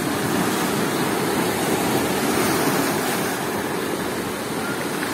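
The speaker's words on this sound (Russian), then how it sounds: "Вот она, волна аж прямо до меня" Strong Black Sea storm surf at Gelendzhik's Blue Bay crashes nearby in a dense, sustained roar, loud for most of the stretch and easing slightly toward the end, with wind rumble underneath.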